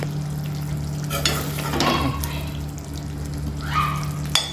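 Chicken fries on low heat in a pan, releasing its own water, sizzling under a steady low hum, with clattering stirring sounds and a few scrapes.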